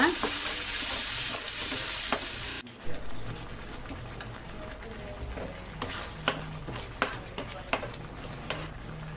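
A spoon stirs and fries masala paste for matar paneer in a pan over low flame, a loud hissing sizzle at first that drops abruptly, then quieter frying crackle with sharp scraping clinks of the spoon against the pan.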